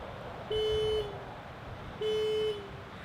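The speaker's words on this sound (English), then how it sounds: "So it just beeps the horn and flashes the light for you." A 2017 Genesis G80 panic alarm gives two long steady horn beeps about a second and a half apart, each holding for half a second over a quiet outdoor hum.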